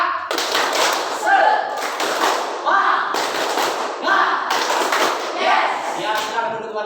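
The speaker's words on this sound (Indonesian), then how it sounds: "Kita tepuk semangat." Students in a classroom stand and perform a rhythmic spirit clap, loud, close bursts of clapping in repeated patterned phrases with voices chanting along between the claps.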